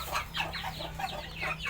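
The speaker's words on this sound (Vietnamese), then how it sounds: "7 con gà ba cái tăng." Several chickens cluck in a steady, busy stream of short calls close by, with a low hum underneath and no talking. The birds are a farmyard group of hens and roosters being offered for sale, including black-feathered birds.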